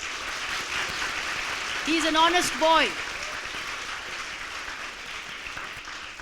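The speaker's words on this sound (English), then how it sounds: "Clap for him." An audience claps steadily through a school visit by someone at Bhavans Kuwait, a dense wash of applause running beneath a voice that speaks briefly over it.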